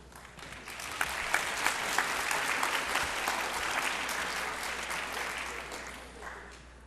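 An audience at a high school yearbook ceremony claps in sustained, dense applause that swells and holds steady throughout, filling the hall.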